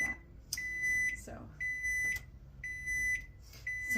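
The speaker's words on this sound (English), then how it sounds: "sorry, that was my kid's timer." A child's kitchen timer goes off during home canning of mandarin oranges, sounding four evenly spaced bursts of shrill electronic beeps in a steady rhythm over faint room noise.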